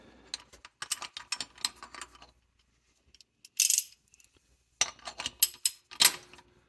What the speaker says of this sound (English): you're going to want to grab your ratchet